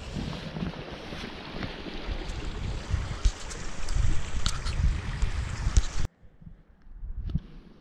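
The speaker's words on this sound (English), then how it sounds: "First little waterfall." A small waterfall on the Pyg Track up Snowdon in North Wales rushes as a steady broadband roar close by, overlaid with wind buffeting the microphone, before cutting to quieter outdoor ambience.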